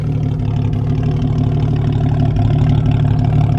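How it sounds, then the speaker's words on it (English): The 4-liter engine of a 1994 Jeep Cherokee XJ idles steadily with a loud, deep, rumbling exhaust note, continuous and close, with no talking. "The 4-liter is a noisy motor. There's no doubt about that."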